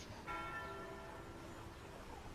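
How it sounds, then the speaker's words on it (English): Church bells ring in the distance, a single clear tolling strike with a long shimmering decay that hangs over quiet room ambience; no voices. "I like the bells. I like to hear that there is life waiting for us."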